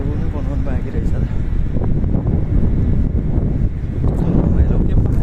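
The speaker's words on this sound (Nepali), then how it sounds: "हावा चल्यो गाइज हावा चल्यो" Gusty outdoor wind buffets the microphone in a steady low roar for the whole stretch, with a person talking over it.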